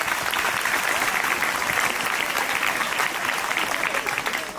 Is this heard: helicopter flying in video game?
no